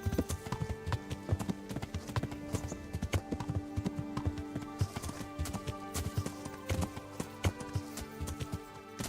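Horse hooves clip-clop at a steady walking rhythm while riding in the video game Kingdom Come: Deliverance, with a continuous run of close, clear hoofbeats and no talking.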